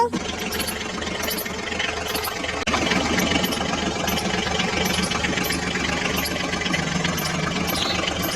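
A toy Eicher tractor's engine runs steadily, a continuous buzzing mechanical drone that jumps louder after a couple of seconds and then holds level, with regular faint high clicks throughout.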